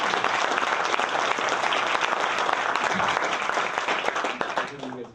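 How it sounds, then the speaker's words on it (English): An audience at a Startup Grind event in San Francisco breaks into loud, sustained applause, a dense wash of clapping that holds steady for about five seconds and then starts to thin out at the end. "Let's give them a round of applause."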